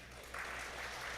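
Church congregation applauding to congratulate a newlywed couple, clapping that swells into a steady, even patter from many hands at a moderate distance.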